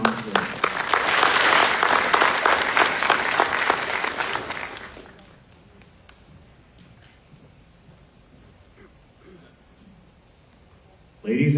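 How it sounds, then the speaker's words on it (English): Applause for the Commandant's Drill at an Army drill sergeant graduation ceremony, a loud, full round of clapping from the crowd lasting about five seconds before dying away to a quiet hall, then a sudden loud burst at the very end. "Please join me in a round of applause for the Commandant's Drill"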